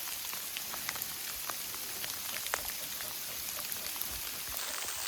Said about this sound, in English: It's starting to hail on us.